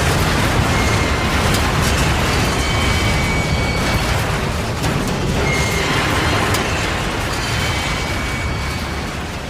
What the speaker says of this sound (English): 8542 and 8692 collide and go up into the air and crash